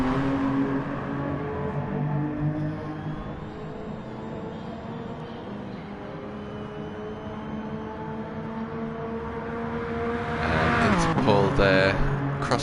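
Racing cars in a video game drone steadily along the track, a sustained engine hum that swells near the end as a car passes close and revs, with commentary voices over it.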